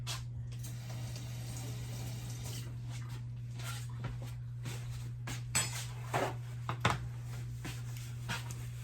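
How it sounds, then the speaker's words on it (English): A can lid is rinsed under a running kitchen tap, a continuous close splash of water with scattered light metallic clinks and knocks toward the end. "I'm gonna rinse the lid off of the can."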